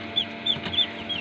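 Ayam Cemani chickens cluck at a hatchery, a few short, regular calls over a steady background hum.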